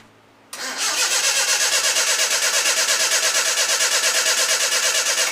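An engine that has sat without fuel and not run in a while is cranked over continuously, a loud steady rhythmic churning that starts abruptly and carries on throughout without catching, with no talking.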